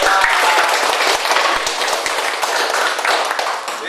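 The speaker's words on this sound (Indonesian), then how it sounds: "Ya, kita beri tepuk tangan." Students in an Indonesian classroom lesson break into brisk, loud applause, many hands clapping densely together throughout and close by.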